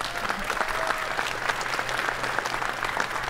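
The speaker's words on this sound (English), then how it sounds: "One more round of applause, please, for the artists." Steady, sustained clapping from an audience, a dense continuous wash of many hands at moderate loudness throughout.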